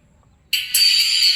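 After brief quiet, a bright high-pitched hiss bursts from a small RCF horn tweeter with a passive crossover capacitor, then steps louder and holds steady.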